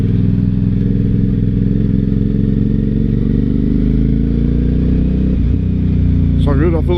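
Aprilia Shiver 750 motorcycle with its exhaust baffles removed, a loud, steady engine drone running throughout while riding, with a brief shift in tone near the end and a higher whine rising at the close.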